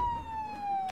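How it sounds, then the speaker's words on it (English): Police-style siren in the zombie survival game Project Zomboid, a steady electronic tone sliding slowly downward and then cutting off abruptly with a short click near the end. "We can turn off the siren now."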